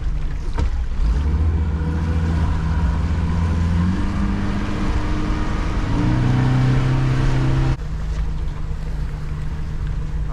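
A fishing boat's engine motoring up tide while hauling lobster traps at sea, a loud steady low drone with shifting pitch as it throttles, a wind-like wash over it, and a change in tone near the end.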